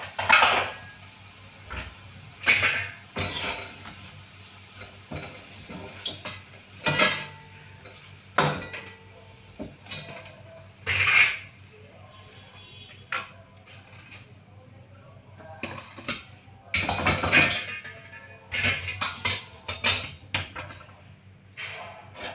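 Onion bhajis are lifted from a pan into a dish on a home stove, with scattered metallic clinks and scrapes of utensils on cookware. The clatter is close and sporadic, set against quiet pauses.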